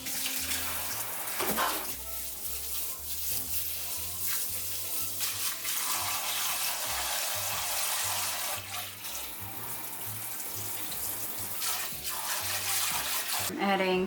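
White rice is rinsed under a running kitchen sink tap: a steady, fairly loud splash and rush of water that carries on throughout, with the muffled slosh of grains being stirred in the stream.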